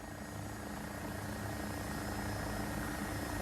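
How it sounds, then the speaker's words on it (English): AgustaWestland AW109SP wheeled helicopter in a flight simulator game, lifting off as the collective rises: a steady, continuous rotor and turbine drone with no pauses, holding an even, fairly quiet level. "slowly raise the collective until I feel the helicopter getting light on its wheels"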